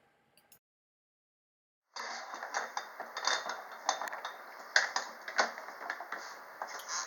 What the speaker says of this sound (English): Here I'm just chucking this thing up in the vise